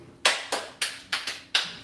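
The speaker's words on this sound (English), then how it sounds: "Wow, that was a very loud clap." Several sharp, loud hand claps, six crisp slaps at uneven intervals with a short ring after each, close and alone.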